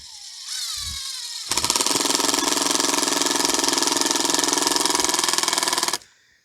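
A battery drill drives a screw into a boardwalk board, a short whine followed by a loud, steady buzzing drive lasting several seconds before stopping abruptly.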